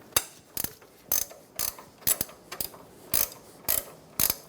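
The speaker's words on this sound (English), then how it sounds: "Using an 18mm wrench, we're going to loosen the upper ball joint nut." An 18mm wrench loosening the upper ball joint nut on a 2014-2018 Chevrolet Silverado 1500 control arm, heard as a series of sharp ratcheting clicks in quick bursts, about eight close, crisp pulls with short pauses between.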